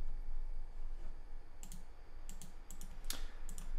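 Computer mouse clicks while building grouped products in WooCommerce, several short crisp clicks in the second half over a low steady room hum, no talking.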